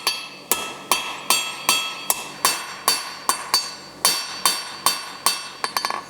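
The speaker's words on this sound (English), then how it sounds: "I want to bring my hammer slightly back, drop my angle of my bar down as well slightly, and hammer behind" A blacksmith's hammer strikes forged steel bar stock while drawing out a square taper for an S-hook: loud, ringing metallic blows at a steady rhythm of about two per second, close up, ending in a quick flurry of lighter taps.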